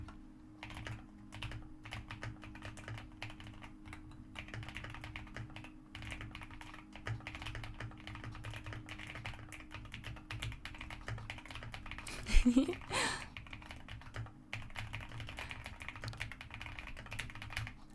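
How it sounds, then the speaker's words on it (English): Steady typing on a new computer keyboard at a desk, a continuous run of soft key taps over a low hum, with one brief louder knock near the end. "We'll just add a little bit of that keyboard back in for the ending."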